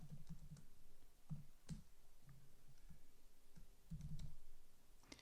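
Typing on a computer keyboard while writing JavaScript code in Sublime Text 3: quiet, irregular clicking keystrokes in short bursts and clusters, close up, with no talking.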